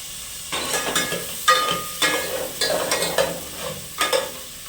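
Ginger garlic paste sizzles in a hot pan while a utensil stirs and scrapes it in repeated quick strokes, each one a sharp bright burst over a soft crackle.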